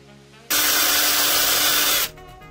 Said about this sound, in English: We're going to drill the holes next.